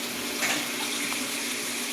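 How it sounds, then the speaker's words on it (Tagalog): Water pouring steadily into a cooking pot of vegetables, a continuous close splashing rush with no voices over it. "Lagyan ng konting Tubig."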